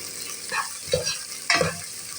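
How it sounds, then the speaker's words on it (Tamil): Horse gram and potatoes sautéed in oil in a pan, heard as a steady sizzle with three quick scraping stirs, close and clear. "கொள்ளையும் நம்ம உருளைக்கிழங்கையும் இதிலே போட்டு வதக்கிடலாம். அந்த இருக்கிற எண்ணெயிலே நல்லா வதக்கி விட்டுக்கலாம்"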